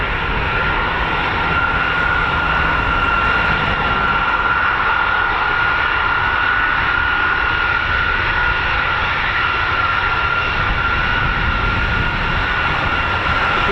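KC-135 with four CFM International F108 jet engines, a steady, loud, unbroken engine roar with a constant whine, heard up close at RAF Mildenhall with no talk over it.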